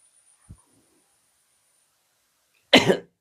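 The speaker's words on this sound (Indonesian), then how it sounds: "Batuk dulu" During a Quran study lecture the preacher lets out one close, loud cough near the end, preceded by a faint soft knock and otherwise near-silence with a thin steady background whine.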